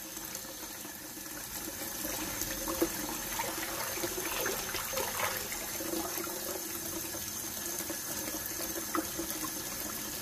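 Water poured slowly out of a well-seasoned cast iron dutch oven during cleaning, a soft continuous splashing and trickling stream that stays fairly quiet and even throughout.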